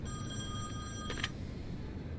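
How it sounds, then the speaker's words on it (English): A telephone rings in the video game The Wolf Among Us, a thin tonal ring that swells briefly midway, set against quiet, steady background ambience. "There's a phone."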